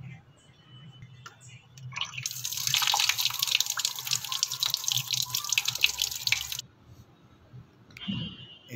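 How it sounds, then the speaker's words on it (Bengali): Rice for omni washed under a running tap in a kitchen sink, a steady hissing stream of water pouring for about four seconds and then shut off, with quiet handling noise before and after. "এখন উমনির চাউলটা একটু ভালো করে ধুয়ে নেব।"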